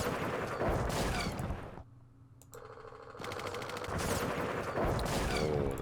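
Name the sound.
machine gun fire in the video game Campaign Series Vietnam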